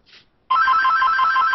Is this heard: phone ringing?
yes